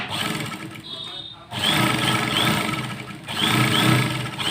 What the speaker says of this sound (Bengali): সোজা নেওয়ার পর একদম স্ট্রেট সেলাই করবেন